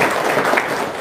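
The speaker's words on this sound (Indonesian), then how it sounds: "Tepuk tangan dong." An audience at a talk bursts into close, loud clapping, a brief dense flurry lasting about a second.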